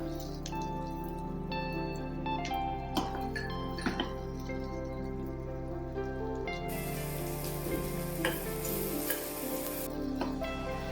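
Dal tadka bubbling in oil as kasuri methi goes in, a soft, steady sizzle under a held musical drone, with occasional light clinks and a brief louder crackling burst midway.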